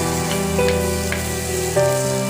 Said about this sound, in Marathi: आता आपलं हे बघू शकता व्यवस्थित असं हे फ्राय झालेलं आहे